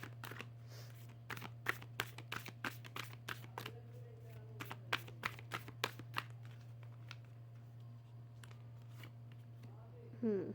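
Tarot cards are shuffled by hand in a quiet room, giving a run of crisp, quick riffling snaps in close bursts that thin out toward the end, with a steady low hum beneath and no speech.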